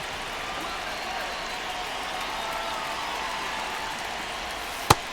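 A stadium crowd at an A's vs. Yankees baseball game keeps up a steady, distant roar with scattered clapping, then a single sharp crack near the end.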